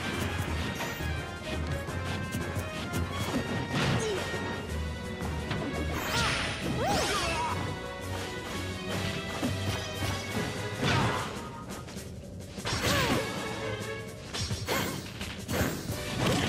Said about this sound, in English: Wow, he just forward smashed 3 times.